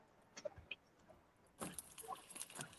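Car keys jangle and rattle in bursts, faint at first, then a louder stretch of metallic clinking near the end, in a quiet backstage space.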